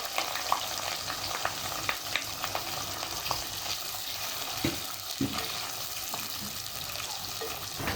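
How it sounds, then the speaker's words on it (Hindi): Sliced onions frying in oil in a pan with green chillies and panch phoron spice mix, a steady close sizzle with occasional stirring scrapes and clinks, no talking. "प्याज को हम गुलाबी होने तक तलेंगे।"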